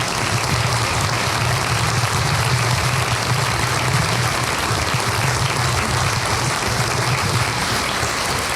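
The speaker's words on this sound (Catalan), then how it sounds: "per qui demanem un aplaudiment" Sustained, dense applause from a seated audience at an awards ceremony, loud and even from start to finish, a continuous wash of many hands with no speech over it.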